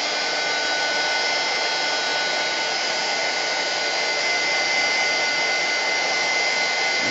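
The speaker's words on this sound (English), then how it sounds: "So I'm going to turn on this heat gun." Heat gun blowing on dyed seam binding ribbon, a steady loud whooshing hiss of air that runs unbroken throughout, with no talking.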